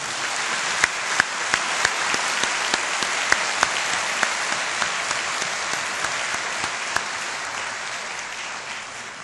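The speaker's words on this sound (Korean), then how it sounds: "박수 한번 보내드립니다" Sustained applause from a seated audience at a university president's inauguration ceremony, a steady wash of many clapping hands with a few sharper nearby claps, continuing evenly throughout.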